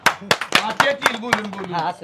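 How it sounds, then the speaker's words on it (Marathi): A few sharp hand claps ring out at a village comedy gathering, spaced irregularly and mixed with someone speaking over them. "टाळ्या"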